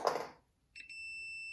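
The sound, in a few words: continuity checker beeping while testing a torch button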